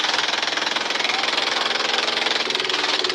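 A fishing boat engine runs loud and close with a rapid, steady knocking throb that continues throughout, with no clear voices over it.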